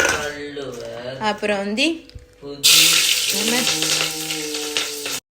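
Butter and cloves sizzling in hot oil for ghee biryani, a steady frying hiss that swells loudly midway, with someone talking over it at first.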